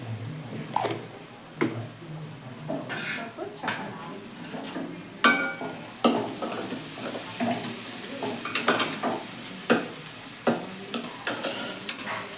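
Tomato and ginger paste frying in a pan for egg curry: a constant sizzle broken by repeated sharp scrapes and knocks of a spoon stirring against the pan.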